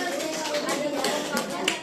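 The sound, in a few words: group applause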